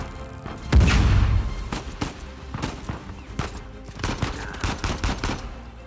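Gunfire in Uncharted 4: A Thief's End starts with a heavy, close blast and continues as a dense string of rapid shots and impacts that fades slightly, then picks up again.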